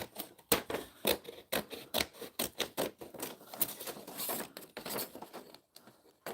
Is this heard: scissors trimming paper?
yes